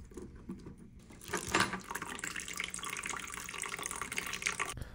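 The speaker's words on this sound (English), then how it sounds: "Now I'm just draining all of the water that I can from the heat coil loop." Water draining from an HVAC heating coil loop in a closet, a steady broadband rush and splash that swells after the first second and runs on evenly to the end, with no talk.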